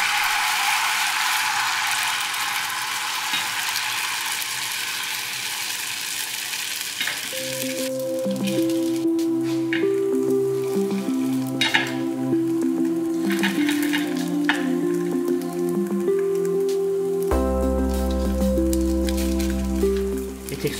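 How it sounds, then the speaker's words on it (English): Steady sizzling of Vietnamese banh xeo batter frying in a very hot non-stick pan, with clicking and mechanical whirring tones joining partway through. "You can hear the sizzle."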